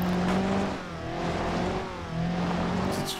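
A car engine in BeamNG.drive revs steadily with a wavering whine as the vehicle, a limousine, sits wedged against a pole, engine starved of oil; the note rises and dips without a break, close and loud.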